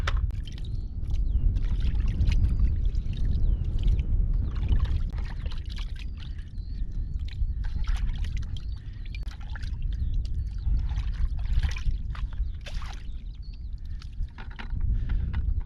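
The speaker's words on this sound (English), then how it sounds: "I'm going to give them a good rinsing." Water sloshing and swirling in a container as freshly dug lugworms are rinsed of sand, with irregular splashes and pours over a low rumbling background, close by.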